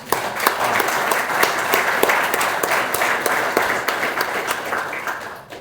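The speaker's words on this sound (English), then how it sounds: "Round of applause for them." Audience at a retirement ceremony claps in a dense, steady round of applause for a couple, sustained and fairly loud throughout with no voices standing out.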